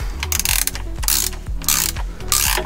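A ratchet wrench clicks in rapid, repeated strokes while the stiff differential plug of a BMW E46 is worked loose, with loud close mechanical clatter in a steady back-and-forth rhythm.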